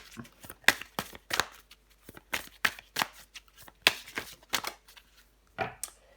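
Tarot cards are shuffled and drawn by hand in a quiet room: a series of crisp, close riffles and flicks come in quick bursts with short pauses between, and no voice is heard.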